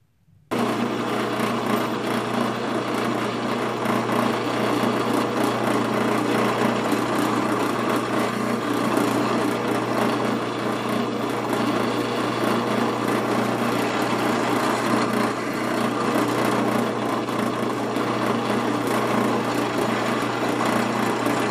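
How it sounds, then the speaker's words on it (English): Power drill boring holes into a wooden crib rail held in a small vise, a loud, steady, high-pitched motor whine that starts abruptly and runs continuously for over twenty seconds. "and then I'm gonna drill."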